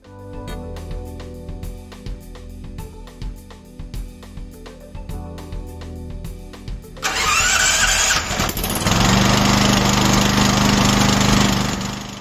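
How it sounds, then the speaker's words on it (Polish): A Dynamo DY-7500 generator engine starting cold at about -5°C: a long run of rapid, rhythmic cranking, then the engine catches and settles into a loud, steady roar, close up with no talk. "Testowaliśmy też możliwość uruchomienia zimnego silnika w temperaturze około minus 5 stopni Celsjusza."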